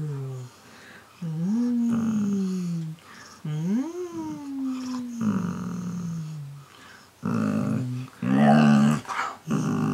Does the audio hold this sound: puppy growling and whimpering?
yes